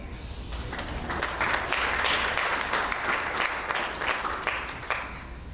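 Steady applause from an audience at a university honors day program, a dense patter of many hands clapping throughout, fairly loud and continuous.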